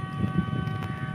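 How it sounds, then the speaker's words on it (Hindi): Diesel locomotive 8078 sounds its whistle from a distance, a steady sustained tone held for the whole brief moment, faint against a low rumble of wind and background noise. "विसल के मुताबिक 8078 ही है लोकोमोटिव"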